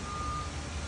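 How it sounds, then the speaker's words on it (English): Backup alarm on a 2018 Hyster E60XN 6000 lb electric cushion forklift, a steady tone held through under a broad wash of machine and background noise, close and fairly loud. "backup sound alarm"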